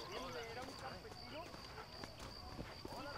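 A war horse's hooves clip-clop in a steady walking rhythm in the video game Red Dead Redemption, fairly faint and partly masked by people talking over the gameplay.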